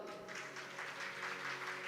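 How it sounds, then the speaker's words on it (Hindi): An audience claps steadily at a Shrimad Bhagavat katha gathering at Bairagi Ashram, a dense wash of applause with no let-up, no voices on top. "पर और ताली बजाओ"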